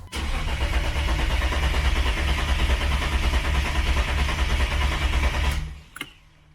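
A turbocharged BMW E36 engine cranks and fires after oil priming, then runs loud and close with a rough, steady idle for several seconds before shutting off with a brief final knock.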